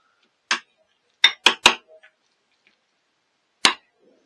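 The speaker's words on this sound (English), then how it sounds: "I'm going to give it a final stir just to make sure all the ingredients are mixed well" A spoon stirring guacamole in a bowl gives a few sharp, separate clinks and scrapes, close and clear with quiet pauses between them.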